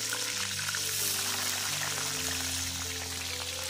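Onions and a few garlic cloves frying in a pan for beef yakhni curry, a steady loud sizzle that stays continuous and close throughout, with no talk.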